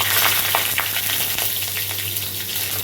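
Bay leaf and white cumin seeds dropped into hot oil on a low gas flame, a loud close sizzle with crackling pops and a few stirring scrapes, no talk.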